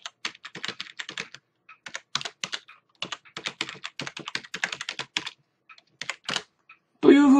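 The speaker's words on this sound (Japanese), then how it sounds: "簡単なメモを入力することができます" Quick bursts of computer keyboard typing as a short note is entered, with steady key clicks in irregular runs and brief pauses, closing with a short spoken sound at the end.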